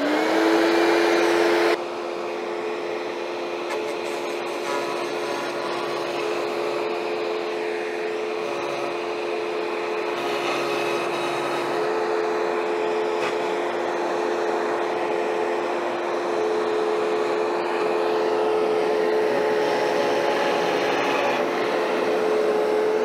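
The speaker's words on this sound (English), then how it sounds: "this particular router table has 2 plugins, one for the router and one for the vacuum" A shop vacuum hooked to a router table drones loudly and steadily for the whole stretch, a constant whining motor with a faint shift in tone near the start and no talking over it.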